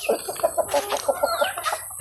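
Egg-laying hens in a backyard coop clucking repeatedly in short rhythmic bursts, close and clear, with a few higher squawks mixed in.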